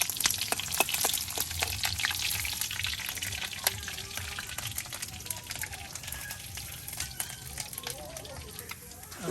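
Chopped onion and garlic fry in hot tempering oil for a Bengali village fish curry on a fire-lit stove, giving a steady, loud crackling sizzle with sharp spits throughout, while a voice talks over it.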